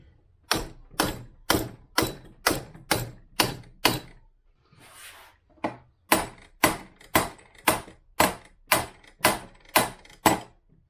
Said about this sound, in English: Let's try whacking it a few times